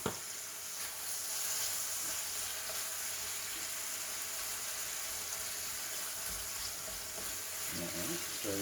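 Fajita meat with seasoning sizzles in a hot pan, a steady dense crackling hiss that holds for several seconds, with some faint stirring and clatter near the end.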